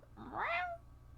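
A single close cat meow, short and rising then falling, heard alone against a quiet hospital room background.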